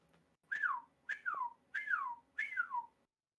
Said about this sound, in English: Whistling goes through the ships and through the sea.